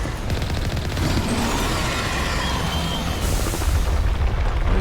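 Gunfire from a firefight in the sci-fi shooter Mass Effect forms a loud, sustained barrage of overlapping shots and booms. It grows slightly heavier toward the end, and no voices are heard.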